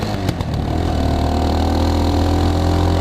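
Geon X Road light 250 motorcycle engine running steadily with a low droning rumble, a few brief blips near the start, then an even continuous hum, close and fairly loud with no talking.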